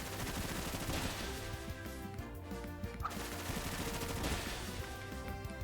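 Rapid, dense volleys of Bullet Seed fire in Pokemon Shining Pearl, a steady machine-gun-like patter of small shots over game music, loud and continuous throughout.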